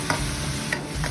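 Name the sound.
stirring curry leaves and asafoetida in hot oil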